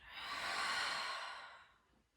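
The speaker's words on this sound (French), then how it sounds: "Et on expire, on relâche tout par la bouche." A long, slow breath let out through the mouth during a gentle waking yoga session, one soft airy whoosh that swells and then fades, close and quiet, with no one speaking.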